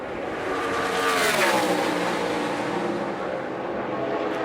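A NASCAR Sprint Cup car on a qualifying lap at Indianapolis in 2014 for the Crown Royal 400 roars past. The loud engine swells to a peak and then fades off steadily, with no voices.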